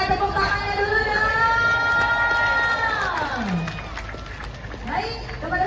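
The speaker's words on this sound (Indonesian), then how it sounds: "saya pengen dengar dulu mana tepuk tangannya dulu dong" An outdoor crowd at a community creative gymnastics competition cheering and clapping loudly, with a drawn-out collective shout that sweeps downward, over continuous crowd noise.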